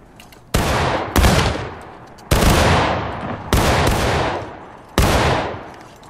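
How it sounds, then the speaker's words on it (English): Rolling musket volleys from a line of Civil War infantry in War of Rights, five loud, sharp cracks about a second apart, each trailing a long echoing decay that overlaps the next. "En gros, ça n'arrêtera pas de tirer en roulement"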